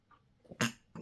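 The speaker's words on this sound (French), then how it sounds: "j'avais envie d'éternuer, ça y est, j'ai éternué" A single short, sharp sneeze bursts out close by, preceded by a quick intake of breath and followed by a brief exhale.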